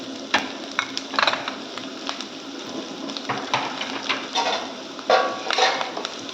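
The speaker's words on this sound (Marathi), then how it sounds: "हे थोडंसं परतून घ्यायचं आहे" Curry leaves, grated ginger, chillies and sesame seeds sizzle in a hot pan for a Maharashtrian bhogi vegetable dish, with steady frying crackle and repeated scraping stirs and spoon clinks close by.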